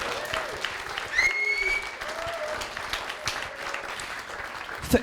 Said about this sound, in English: Let's have a round of applause for the bridesmaids.